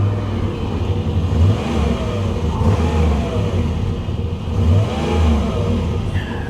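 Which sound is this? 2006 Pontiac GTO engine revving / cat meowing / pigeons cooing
2006 Pontiac GTO engine revving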